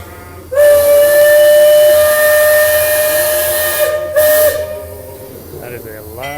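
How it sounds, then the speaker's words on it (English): The Liberty Square Riverboat's steam whistle at the Magic Kingdom blasts loud and close, holding a long, piercing, hissing tone for about three and a half seconds, then gives a second short burst before fading out. "That is a loud, loud whistle."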